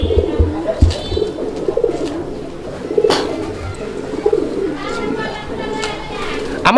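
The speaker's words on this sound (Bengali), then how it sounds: "ভরপুর ডাকের কবুতর" Male pigeons coo in low repeated bursts amid a busy background, with other birds chirping and some voices faintly present.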